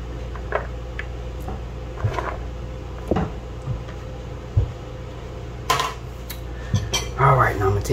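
Dry spaghetti going into a cooking pot, with scattered close clinks, taps and rattles of pasta and metal over a steady low kitchen hum, getting busier and louder near the end.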